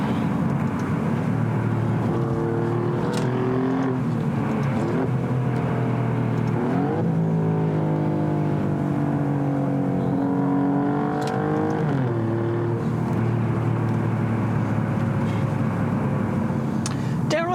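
A 2022 Alfa Romeo Giulia Quadrifoglio engine revs and climbs in pitch as it accelerates, with rising harmonic sweeps through gear changes, loud and steady throughout.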